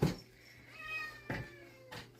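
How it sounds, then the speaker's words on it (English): A cat up for adoption meows indoors, a few separate drawn-out calls spaced across a couple of seconds, close and fairly quiet with no talking. "This is the featured cat of the week"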